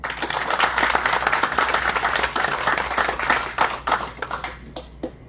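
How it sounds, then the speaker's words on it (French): Applause at a graduation ceremony for newly qualified nurses: a room of people clapping steadily and briskly, close and full, fading toward the end. "Donc, nous allons applaudir Madame James Mekala."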